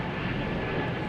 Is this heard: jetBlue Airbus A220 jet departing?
yes